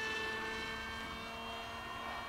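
FF-Demon model airplane flying in for landing at an airport, a steady faint tonal engine whine with layered harmonics, distant and continuous with no talking.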